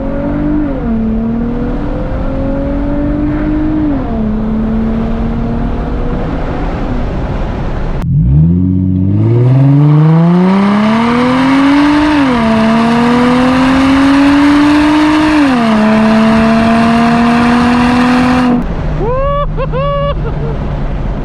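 An Infiniti G35 with a muffler delete, its engine and exhaust droning loud and close while driving, rising and falling through gears with a sharp shift, ending in crackling exhaust pops.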